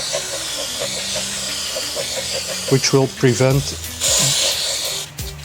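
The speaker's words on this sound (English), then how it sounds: "we're also going to put some copper spray on the surface here" A sharp hiss of aerosol copper spray in short bursts, close up on a Mercedes W203 rear brake, with someone speaking briefly in between.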